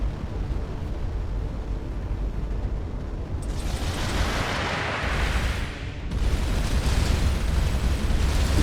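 Weapons fire in the space game Starcom: Unknown Space pounds a space station with continuous rumbling blasts and dense crackling bursts, loud and sustained, swelling into heavier explosive roars partway through.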